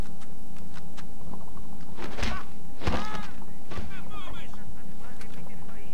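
A truck blown up in the James Bond 007: Blood Stone video game, heard as a few heavy thuds and blasts spread across the clip over a steady low hum, with voices talking between the impacts.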